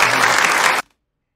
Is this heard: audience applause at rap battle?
yes